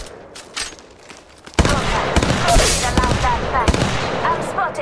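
Apex Legends Mobile gunfire plays on an iPad during a battle royale match: a quiet lead-in, then from about 1.5 seconds loud, sustained automatic bursts with sharp individual shots, dense and continuous, with no talk over it.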